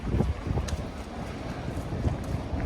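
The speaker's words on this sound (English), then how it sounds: "the wind's kicking up" Wind gusting through a narrow old-town street in Vilnius or Warsaw, a steady loud rumbling roar with buffeting against the microphone and no voices.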